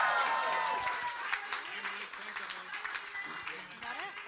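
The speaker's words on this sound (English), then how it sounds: "let's give her a big round of applause" Wedding guests applaud during a ceremony: fairly faint, scattered clapping that is loudest at the start and thins out, with voices talking over it.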